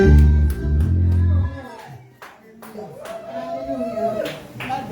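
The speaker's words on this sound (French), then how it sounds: "On acclame pour le groupe musical." A church congregation at an Easter service in Baltimore applauding the music group; scattered, uneven hand claps follow a loud sung passage, with voices murmuring underneath.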